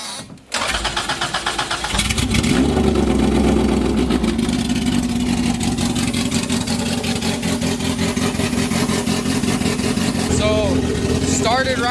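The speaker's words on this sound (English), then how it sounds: "So, started right up. Super loud, but we got a running engine in the car." An old, cheap track car with no lights and no battery fires up after a brief cranking moment, then its engine runs loud and rough at a steady idle. Voices are heard around it.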